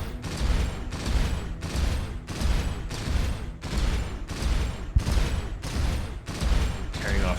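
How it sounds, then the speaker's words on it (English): Plasma cannon in the space game Starcom: Unknown Space fires in a steady run of about a dozen loud, evenly spaced bursts, each a broad crackling blast with a short tail, repeating without pause. "We can destroy its contents with our plasma cannon"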